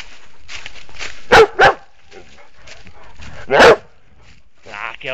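A dog barks up close in two sharp bursts, a quick double bark and then a single one, while a person talks softly and coaxingly around them.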